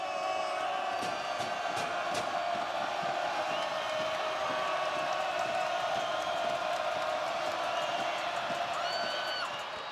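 Dense, steady roar of a rowdy basketball arena crowd cheering at an NCAA men's game between Florida and Missouri, continuous and loud across the whole stretch with scattered whoops and shouts.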